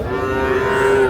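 A young Sahiwal calf or other cattle at a Dhaka livestock market gives a single loud, close, sustained moo lasting about a second.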